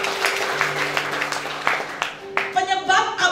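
Church congregation clapping together in worship, a brief burst of applause under a preacher's voice, with music entering toward the end.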